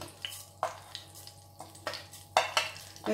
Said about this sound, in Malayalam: ആദ്യം തന്നെ ഈ ജീരകം ഇതിനകത്തോട്ട് ഇടാം ജീരകം ആദ്യം ഒന്ന് പൊട്ടിക്കണം